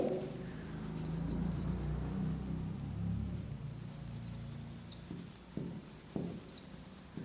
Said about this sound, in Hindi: तो यहाँ पे हम लिख देंगे